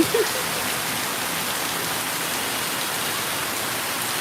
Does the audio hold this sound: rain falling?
yes